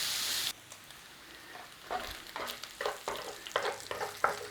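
Bacon frying in a pan for a creamy pasta salad, heard as a soft sizzle that is broken by a series of scraping, stirring bursts. It is close and alone, with no talk.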